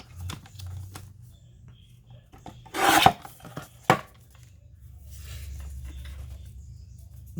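Paper being trimmed for a book page insert, with a short burst of cutting and rustling in the middle followed by a sharp snip, set against a quiet low background hum.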